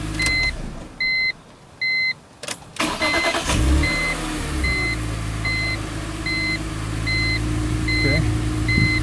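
BMW Z4M with a newly replaced voltage regulator on the alternator: a few dashboard chimes, then the engine cranks and catches, settling into a steady close idle with repeating beeps over it and brief talk.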